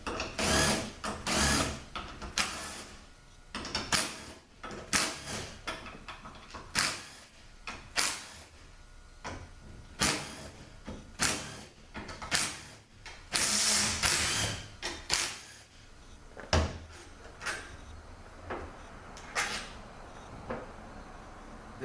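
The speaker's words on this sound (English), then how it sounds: "we're gonna start by taking this section off here" Metallic clicks and ratcheting clatter come up close in irregular bursts as a section is taken off a Toyota AB60F automatic transmission valve body, with small parts rattling between louder strokes.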